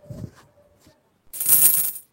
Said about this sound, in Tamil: ஐயோ, 5 ரூபா காசு கீழே வந்துச்சு